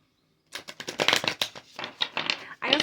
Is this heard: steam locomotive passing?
no